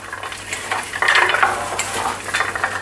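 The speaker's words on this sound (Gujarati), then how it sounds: "તેને બરાબર આ રીતે હાથેથી આપણે મિક્સ કરીશું" Peeled garlic cloves worked together with peanut oil by hand, giving a short, close, wet squishing and rustling that stays steady and fairly loud throughout, with no voices.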